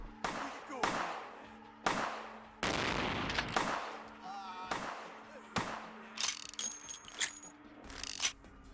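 Gunfire in the video game Vampire The Masquerade Bloodlines: a string of sharp, loud shots at uneven intervals, several close bangs with decaying tails, mixed with other game effects and a brief high tone.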